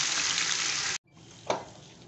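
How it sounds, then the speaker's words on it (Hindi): Fish coated in cornflour masala fries in hot oil on full flame, a loud dense hiss that cuts out abruptly, then returns softer with a brief sharp burst. "तकरीबन 2 मिनट तक मैंने इसे फुल फ्लेम पे मछली को फ्राई किया था"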